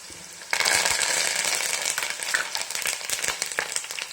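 Garlic and curry leaves drop into hot tempering oil for a bitter gourd chutney, setting off a sudden loud, crackling sizzle that keeps spitting and popping up close, with no talking.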